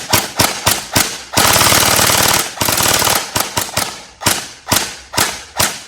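A TacToys M4 MKIII gel blaster fires close and loud, first in sharp single shots in an irregular rhythm, then in rapid full-auto bursts, then back to single shots.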